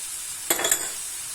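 A spoon stirs dried herbs, pepper, parsley, thyme and salt into a flaked tuna filling for nettle mini-brioches: a short scrape-and-clink burst of about a third of a second, close, in an otherwise quiet kitchen.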